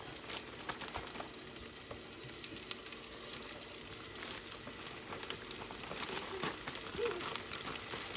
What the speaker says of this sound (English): I do have my deep fryer on high and go, which is 375